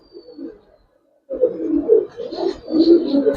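A pair of Indian Nazra Kaldom pigeons coo close by, a soft throaty murmur, then a louder run of rolling, bubbling coos that repeat in uneven bursts.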